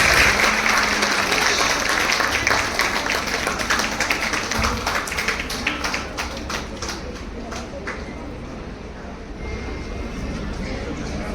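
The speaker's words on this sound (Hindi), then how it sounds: "जोरदार तालियों से मैम का स्वागत करें।" Loud, sustained applause from a crowd welcoming a guest at a women's wing event of a railway workers' union in Nagpur, steady clapping that fades slightly toward the end.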